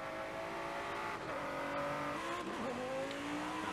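Race car engine in Forza Horizon 5 drones steadily at high revs, with pitch shifting through gear changes and a brief dip; a smooth, synthetic-sounding continuous roar.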